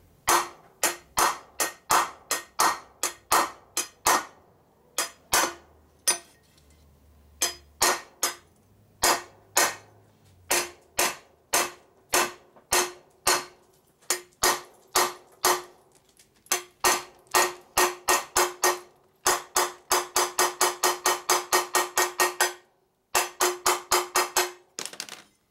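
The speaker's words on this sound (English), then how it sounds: "So go ahead and beat it on the floor in here with a piece of wood. Dimple it." Repeated sharp hammer blows dimpling a part from a 1958 Harley-Davidson Panhead 74ci motorcycle rebuild, struck against a piece of wood; close, loud metallic hits in irregular bursts, speeding into rapid runs of strikes near the end, with no talk.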